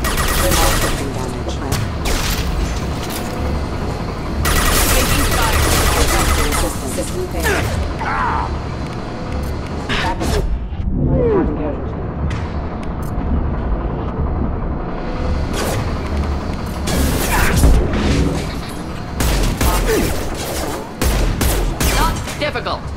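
Enemy gunfire in a Mass Effect Legendary Edition firefight, rapid automatic bursts and booms crackling almost continuously, with a brief lull midway and voices talking over the shooting.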